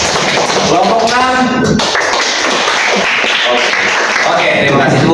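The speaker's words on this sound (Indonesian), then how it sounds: "Oke, tepuk tangan." A classroom applauding a student group: dense, steady clapping from many hands fills the whole stretch, with a voice speaking over it.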